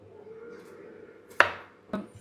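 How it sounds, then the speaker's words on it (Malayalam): A knife slices garlic on a board, with two crisp cuts landing in quick succession near the end over a quiet, faint background hum. "നമുക്ക് വെളുത്തുള്ളി സ്ലൈസ് ചെയ്യാം."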